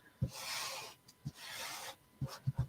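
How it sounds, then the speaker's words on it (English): A Chalk Couture silk screen is burnished down onto an embroidery hoop in two long, soft rubbing strokes with light taps and knocks between them, close and quiet, with no voices. "So I'm just kind of going along that silk screen and burnishing it down."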